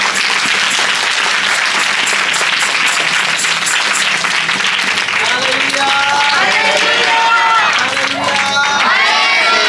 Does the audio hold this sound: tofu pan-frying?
no